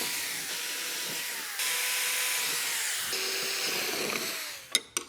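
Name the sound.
power drill drilling bolt holes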